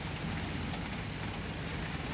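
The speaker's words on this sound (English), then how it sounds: "It's raining today." Rain falls on a home garden, a continuous dense hiss at steady moderate loudness with no breaks.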